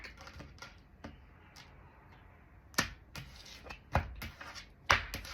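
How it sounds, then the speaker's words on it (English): A deck of tarot cards being cut by hand, giving a few sharp, crisp clicks and snaps spread across a quiet background, close and fairly soft. "I'm going to cut the deck"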